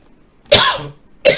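A man coughing in two harsh bursts, a longer one followed by a short one after a brief pause, close and loud with no talk, during a spoken stock market commentary.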